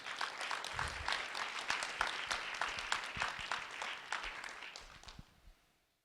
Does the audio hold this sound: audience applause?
yes